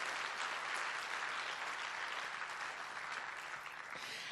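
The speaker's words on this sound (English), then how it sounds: "a big round of applause for our panelists for their very valuable insight" An audience at a conference panel session gives a dense, even wash of applause that carries steadily and fades slightly toward the end, with no talking over it.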